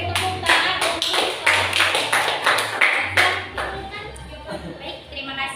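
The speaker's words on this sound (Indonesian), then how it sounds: "Beri tepuk tangan untuk" Classroom applause for a student, a burst of hand claps with sharp individual taps, fairly close and loud, tapering off toward the end while voices murmur underneath.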